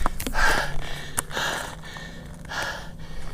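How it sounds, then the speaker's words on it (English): Heavy, labored breathing from a hiker climbing a steep uphill trail, close to the microphone, with a few deep gasping inhales and exhales spaced across a few seconds. "Yep, breathing heavy."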